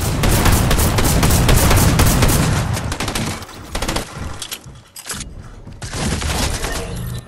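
Rapid bursts of SMG fire in the video game Fortnite, dense loud rattling volleys that pause briefly midway and then resume, with no talk over them.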